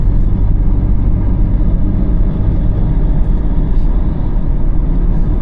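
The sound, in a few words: car driving on highway, shifted to fifth gear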